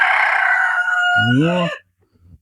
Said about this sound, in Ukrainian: Курі. Дивіться, які курі.